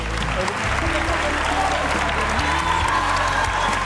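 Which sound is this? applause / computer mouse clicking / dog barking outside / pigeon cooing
applause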